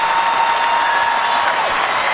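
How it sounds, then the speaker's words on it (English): Stadium crowd applauding and cheering at an NFL football game between the Bills and Colts, a dense, steady roar of clapping that stays loud and even throughout. "Crowd reacting"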